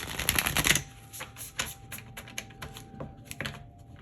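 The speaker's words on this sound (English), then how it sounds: "Let me shuffle one more time for you" Tarot cards are riffled and shuffled close up, a dense burst of flapping clicks at first, then scattered softer taps and shuffles.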